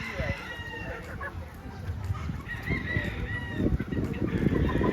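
Chickens and young pullets of kelso gamefowl lines at a gamefowl farm in Lipa, Batangas, clucking and calling in a steady outdoor chorus with occasional distant crowing, a voice talking over the flock.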